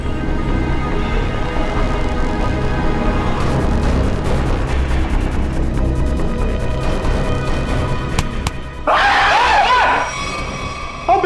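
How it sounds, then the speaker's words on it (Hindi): A man lets out a brief, loud scream near the end of a crime-drama scene, after a long stretch of heavy, roaring rumble. "लड़की की तरह चीखता क्यों है?"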